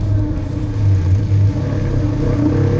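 Suzuki GSX-S150 motorcycle with an overbored DOHC engine, ridden on the road: a continuous close engine drone that rises and swells in revs, heard alone without talk.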